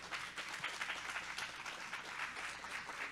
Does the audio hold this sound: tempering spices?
no